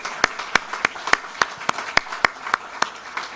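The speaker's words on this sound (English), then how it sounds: "Let's give him a big round of applause to welcome him formally." Audience applause welcoming a guest at a parliament house in Australia, heard as a dozen sharp, evenly spaced claps in a slow steady rhythm, moderately close.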